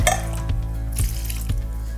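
A kitchen tap runs while something is rinsed under it during stuffed cabbage preparation, a loud continuous splash with rhythmic knocks of a pot or dish roughly every half second.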